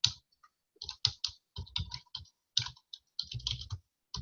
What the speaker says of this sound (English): I'm just typing what I showed you guys earlier